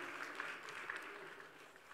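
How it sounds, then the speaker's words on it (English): An audience at the HR Meet 2023 awards gives the winners a round of applause, heard as a faint, steady wash of clapping with no voices over it. "A big round of applause for them."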